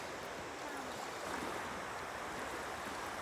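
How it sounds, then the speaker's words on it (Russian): Steady broadband wash of sea waves breaking on a humid seashore, continuous and fairly faint with a soft swell midway, no voices. "Сейчас приехала на море"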